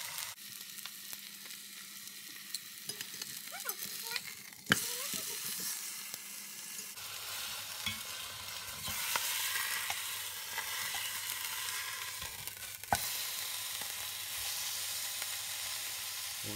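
A leg of lamb sears in a cast-iron pot, giving a steady sizzling hiss that fills the whole stretch, with a few sharp clanks and shifts partway through as the meat is turned.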